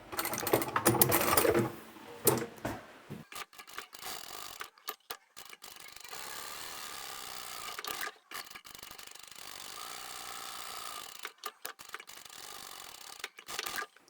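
A sewing machine back stitches a bag seam in short bursts: a louder rattling stretch at first, then softer intermittent whirring broken by clicks and handling noises, close up with no talking.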